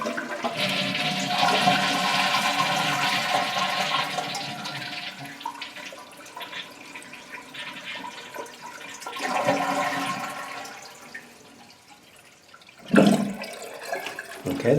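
A toilet flushes with a loud rushing drain of water that gradually fades to a trickle, followed by a brief clunk and renewed water noise.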